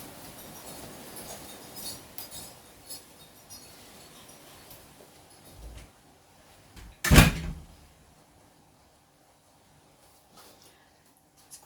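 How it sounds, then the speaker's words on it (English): A single door bumps shut, near and fairly loud, in a quiet room with faint rustling before it and stillness afterward. "I'm going to just close the door"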